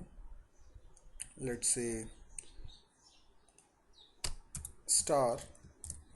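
Typing on a computer keyboard during a C programming lecture: short bursts of quick key clicks, fairly quiet, with someone speaking between and over the keystrokes.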